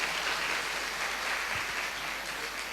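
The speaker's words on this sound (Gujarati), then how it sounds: "ભાઈ તાળી બજાવો સાહેબ માટે." Steady, fairly faint applause from a university audience at a talk, a continuous wash of clapping with no clear voices.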